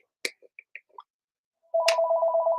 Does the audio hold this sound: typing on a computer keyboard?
no